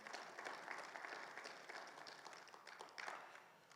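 A congregation at a Bible seminar gives a strong round of applause, continuous clapping from many hands at moderate distance, swelling slightly near the end before tapering.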